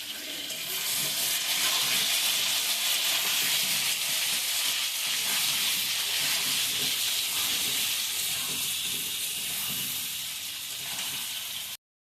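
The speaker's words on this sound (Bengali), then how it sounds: "খুন্তি দিয়ে আলুগুলো নাড়িয়ে দেব।" Potatoes fry in a pan with salt and turmeric for a spiced potato dish, giving a steady, close, continuous sizzle with light scraping as a spatula stirs them, no talk.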